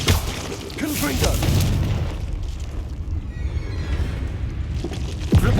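A Confringo explosive spell bursts in Hogwarts Legacy, a loud booming blast that rolls on for several seconds amid game effects, with a sharp thump near the end.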